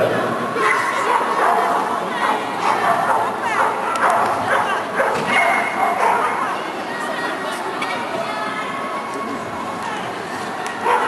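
Dogs bark, yip and whimper repeatedly at an indoor agility show in Spodek arena, loud and close, amid crowd chatter and a commentator talking over them.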